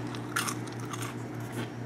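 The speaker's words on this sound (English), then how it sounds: "they have the perfect crunch" Crisp bites into crunchy homemade beet chips, a few close, sharp crunches followed by chewing over a low steady hum, with no talking.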